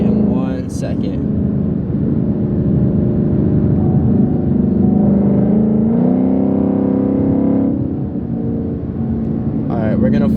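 A 2019 Mustang GT with a straight-piped exhaust is floored in sport mode, giving a loud, continuous engine roar that climbs in pitch, dips briefly at a shift, then pulls again.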